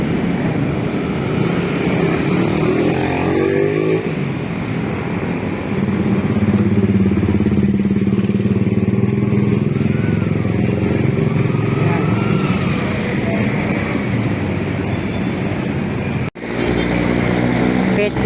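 Steady loud street traffic at a corner by Del Banco Nacional near Lawton, with engines of cars and motorcycles droning and revving close by, and a voice talking over it throughout.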